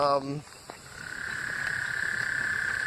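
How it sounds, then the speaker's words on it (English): A very loud, close insect-like chirping drone starts after a brief croaking burst and holds steady as a continuous pulsing trill. "Sounds like a really, really loud cricket."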